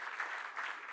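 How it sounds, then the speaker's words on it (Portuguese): Applause from a church conference audience in Portugal, a steady wash of clapping from many hands with no talking over it, brief and at a moderate distance. "Vamos dar uma salva de palmas para eles"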